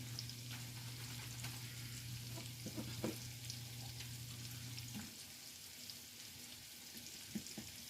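Garlic fries in a pan with a soft, steady sizzle. A low hum sits underneath for the first half and then drops away, and a few faint clinks and stirring sounds are scattered through.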